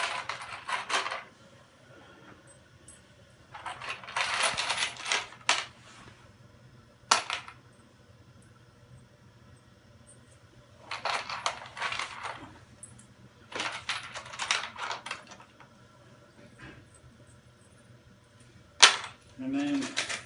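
Small metal screws clatter and click as they are picked out and handled while fitting a rack for a Calfarme BIO PLUS mixing dispenser, in several short bursts of rattling close by, separated by quiet pauses.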